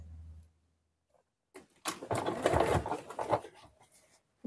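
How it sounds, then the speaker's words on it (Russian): Sewing machine stitching the collar seam of a quilted patchwork vest, a brief low hum, then a pause before a loud, steady run of fast stitching lasting a few seconds and fading out. "Вот этот уголочек можно подвернуть и настрачиваю в строчку притачивания."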